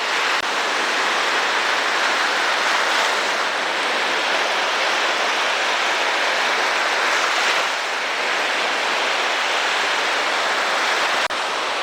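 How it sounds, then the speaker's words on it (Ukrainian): Waves on the Baltic Sea shore, a little rough, make a steady broadband rushing wash that fills the whole stretch, loud and constant with only slight swells and dips and no voices. "Давайте з вами декілька секунд послухаємо море."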